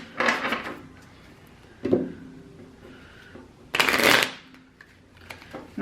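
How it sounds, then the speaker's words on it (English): Playing cards are shuffled in a few quick riffling bursts, close and crisp, separated by quieter pauses with light handling sounds. "I am going to go ahead and shuffle the cards"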